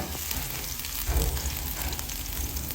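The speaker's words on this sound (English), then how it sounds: "I'll saute this a little bit" Spring onions sauté in hot oil in a frying pan, giving a steady, close sizzle and crackle that holds through the whole stretch, with a slightly louder swell midway and no talking.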